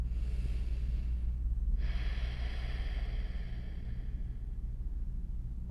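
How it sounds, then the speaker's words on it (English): Slow, steady breathing during a restorative yin yoga session for hips, heard as a soft continuous airy exhale with a quiet hiss, close and faint under a low background hum, with no talk. "Let's take a couple more breaths."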